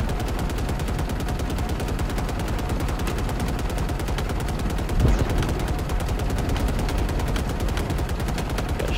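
Sustained rapid automatic gunfire from the video game Halo Infinite rattles in an even, unbroken stream of shots, with a heavier thump about midway through.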